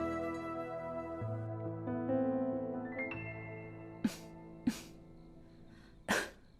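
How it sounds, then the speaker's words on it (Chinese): Three sharp coughs close by, spaced a second or so apart, the last one harsher, over a sustained musical background. "你奶娘咳嗽得很厉害"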